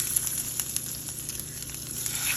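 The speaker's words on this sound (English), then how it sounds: "When it's ready, you just put a dash of water and then it starts sizzling." Wild-caught Alaskan salmon fries in olive oil in a pan with a splash of water, giving a soft, steady crackling sizzle with small pops, fairly quiet and with no voices.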